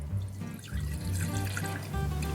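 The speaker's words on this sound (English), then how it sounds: "We're going to start by pouring the bottle of isopropyl alcohol into the beaker." Isopropyl alcohol poured from a bottle into a lab beaker while shellac is being prepared: a steady, close liquid stream splashing and gurgling for a couple of seconds with no talk.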